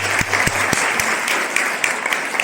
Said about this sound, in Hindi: ताली बजाइए मैडम के लिए।